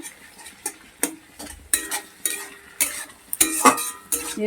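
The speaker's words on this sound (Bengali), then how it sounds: "রসুনটাকেও ভালো করে কষিয়ে নেবো" Chopped garlic and onion sautéing in a pan, with repeated clinking spatula scrapes and stirring knocks over a faint sizzle, close and fairly sparse.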